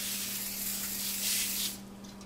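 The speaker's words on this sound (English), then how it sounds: "And you spray it again." Continuous close hiss of cooking spray on a pan for about two seconds, swelling briefly, with a low steady hum underneath.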